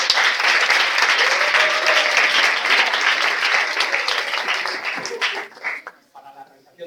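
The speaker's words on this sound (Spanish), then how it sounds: "Un aplauso, por favor." Audience applause at a student-organised journalism congress, a full room clapping steadily before thinning out and fading to a few scattered claps near the end.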